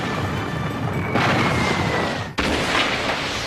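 Heavy cannons firing from warships, two deep booming blasts with a sharp crack at the second, followed by rumbling noise.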